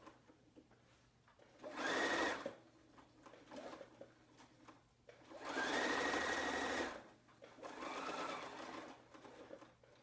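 A sewing machine stitches a large curved quilt piece in three separate runs, each a steady close whir of a couple of seconds separated by quiet pauses.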